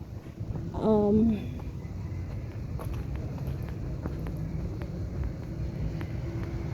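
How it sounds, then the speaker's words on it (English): An airplane taxis on a runway near Whitehouse Village, Montego Bay, Jamaica, a steady low engine rumble held throughout at moderate distance, with a short voice near the start. "See that plane taxiing on the runway."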